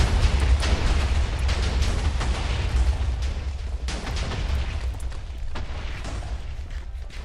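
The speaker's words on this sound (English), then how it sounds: "Send out them fireworks." Fireworks burst nonstop in modded Minecraft, a dense, loud rumble of overlapping explosions and crackling pops that runs without pause throughout.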